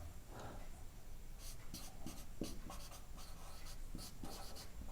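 A pen scratches across paper in short, quick strokes while a Class 10 circle-area math solution is written out, close and fairly quiet, with no talking.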